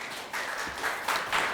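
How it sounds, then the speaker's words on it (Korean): Seminar attendees at a law firm's ESG event clap faintly to welcome the next speaker, the applause coming in soft uneven bursts from a small room. "큰 박수로 맞이해 주시기 바랍니다"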